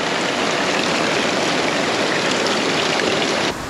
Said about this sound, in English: We're using a bit of a guttering system off the awning to fill the bucket